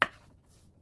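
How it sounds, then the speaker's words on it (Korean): A single sharp knife chop through a large fresh aralia shoot (dureup) on a cutting board, one crisp close thud that decays quickly into quiet. "이 두릅이 좀큰 애들은 반으로 잘라서"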